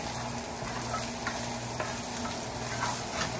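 Curry leaves and green chillies for a fried chicken biryani, with mint alongside, sputtering in hot oil with a dense, steady sizzle. Faint clinks of stirring break through now and then, and nobody speaks.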